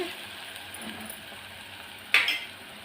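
Ginger garlic paste frying in a pan for mango mutton curry gives a soft, steady sizzle while being stirred, with a single sharp spoon clink against the pan near the end.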